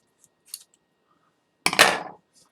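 Scissors make a single short snip of a paper prop, followed by a louder, longer cutting scrape lasting about half a second, then quiet.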